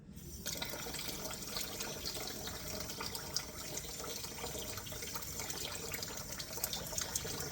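Two tablespoons of water are poured into a cooking mixture, a steady close splashing and trickling stream that runs continuously for several seconds without speech.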